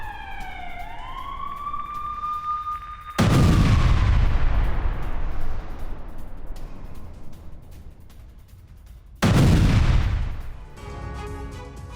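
Bombs from an IDF air strike on Hamas positions in the Gaza Strip explode in two loud, deep booms with long rumbling decay, preceded by a rising siren wail.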